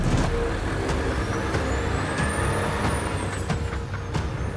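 A truck engine runs steadily as the vehicle pulls away, a continuous low rumble with a hiss of air and a rising whine of acceleration.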